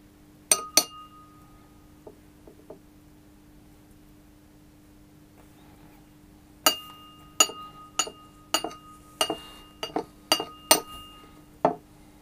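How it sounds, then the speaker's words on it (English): A teaspoon clinks sharply against glass while seeds are pressed out, two quick taps, a few faint ones, then a steady run of about ten crisp clinks in an irregular rhythm, close and fairly loud in a quiet room. "I just press out the seeds like this. I use a teaspoon on"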